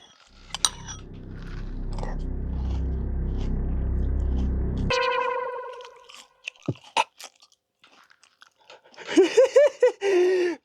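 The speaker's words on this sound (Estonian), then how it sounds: "et sööd kellokseid apelsini mahlaga peale" Crunchy chewing of Kellogg's cereal flakes with orange juice, a loud continuous munching close to the mic for several seconds, then a few clinks and a short spoken remark at the end.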